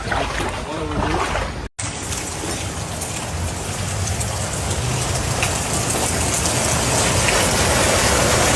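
Heavy rain pours steadily on Oahu, Hawaii during flooding, a loud, dense, continuous hiss and patter of falling water filling the space, with one brief cut near the start.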